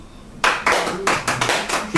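A theatre audience at a long improvised play claps to vote, breaking into a burst of loud, dense applause that runs in quick surging waves for under two seconds, close and without talk.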